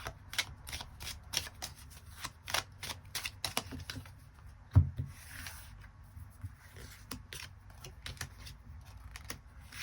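Tarot cards are shuffled and drawn in a close, dry run of rapid papery flicks and riffles, with one sharper thump partway through and no voice over the crisp rustling.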